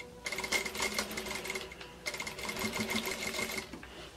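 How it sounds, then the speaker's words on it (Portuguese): Close, loud whirring of a sewing machine stitching a zipper on a bag, two continuous runs split by a brief pause for the backstitch, no talking. "Aí agora eu vou passar aqui uma costurinha prendendo o zíper"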